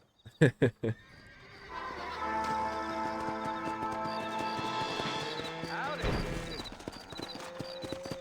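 Hooves clip-clop in a quick burst, then a horse whinnies loudly and at length in the Red Dead Redemption video game, over a steady background of game music and ambience.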